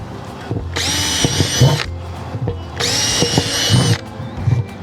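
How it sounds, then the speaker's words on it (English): A drill driver with a regular bit bores drainage holes in plastic planters, two loud whining bursts of about a second each, each followed by clatter and handling of the containers. "Just going to use a regular bit and driver."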